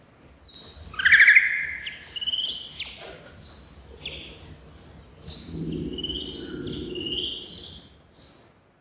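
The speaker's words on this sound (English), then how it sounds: "That was bat ultrasound, recorded above your hearing range, but slowed down so you could hear." Rapid chirping calls sweep downward in quick bursts, bright and bird-like, with a soft low rumble underneath partway through.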